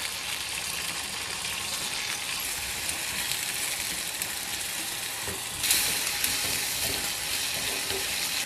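Kovakkai (ivy gourd) sautéing with salt in a pan: a dense, continuous sizzle, with scraping stirs running through it and a slightly louder burst of hiss near the end.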